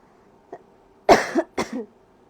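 One faint cough is followed by two louder, close coughing and throat-clearing bursts from a person in a quiet room.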